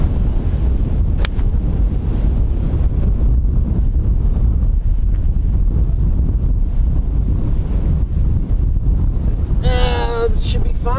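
Strong wind buffets the microphone on a golf course, a steady roaring rumble that runs the whole time, with a few faint high chirps near the end.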